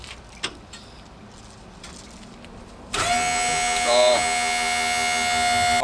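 A truck's hydraulic system switches on abruptly after a few faint knocks and clatters, then holds a loud steady electric whine with a strong tonal hum that wavers briefly midway and runs on to the end.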